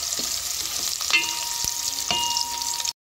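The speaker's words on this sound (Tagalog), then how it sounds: "Nagigisa na ako ng bawang sibuyas and luya." Garlic, onion and ginger sautéing in a pan: a continuous close sizzle with a few scraping stirs and clinks of a utensil, ending abruptly, with no talking.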